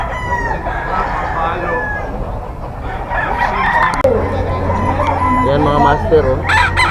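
Bull stag gamecock for sale at a Bocaue market crowing loudly amid a busy crowd of other roosters, chickens clucking and people talking throughout, with a steady low hum underneath.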